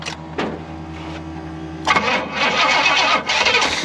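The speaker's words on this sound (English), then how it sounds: "Starter's making some funny noises, huh?" A long-neglected Pontiac Grand Prix starter makes odd noises as it cranks with a steady mechanical whir for about two seconds, then the engine fires and runs loud and rough up close.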